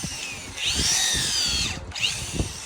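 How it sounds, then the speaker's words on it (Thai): A power drill drives screws into wood during a repair of cracked woodwork, its motor whining loudly and rising and falling in pitch across two short bursts, with knocking and handling between them. "นอกจากนั้นเราจะยิงน็อต เพื่อก็อีกเนาะยิงสกรูเนาะ"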